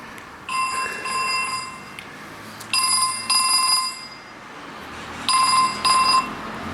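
A telephone rings in three repeated bursts of bright electronic trilling, separated by short pauses, over a quiet background.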